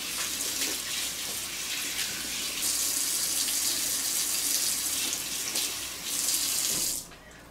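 Tap water runs steadily into a sink while hand soap is rinsed off, a continuous close splashing hiss that shifts slightly as hands move under the stream, then cuts off near the end.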